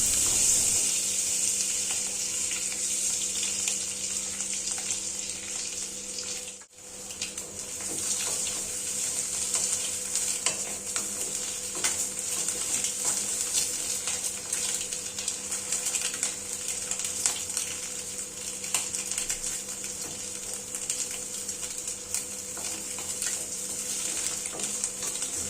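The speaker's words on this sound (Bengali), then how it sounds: "এবার আমরা সেটা গরম তেলে দিয়ে দেব। এপিট ওপিট ঘুরিয়ে ফিরিয়ে খুব ভালোভাবে ডিমগুলো ভেজে নেব।" Eggs coated with turmeric and salt fry in hot oil, a continuous close crackling sizzle with brief pops, broken by one short gap before it resumes steadily.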